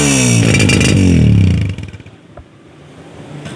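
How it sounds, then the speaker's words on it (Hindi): Honda 125 Self Start Special Edition motorcycle fired by its electric starter: a loud close rev right at the start that fades into a steady, quieter idle putter. "सेल्फ स्टार्ट का बटन प्रेस किया, बाइक हुई start for he Honda 125 self start special edition"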